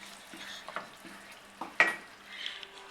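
Salt, chili flakes and black pepper stirred into frying minced meat for a pastry filling, with soft scraping strokes, a few light clinks of the utensil against the pan and a faint sizzle, close up.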